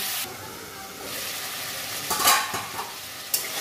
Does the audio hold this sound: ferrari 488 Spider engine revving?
no